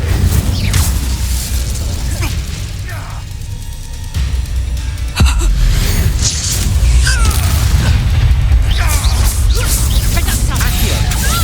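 Spell effects in Hogwarts Legacy crash through a chaotic fight: booming fiery bursts, whooshes and crashing impacts pile up loudly throughout, overlapping with voices speaking in the middle of the action.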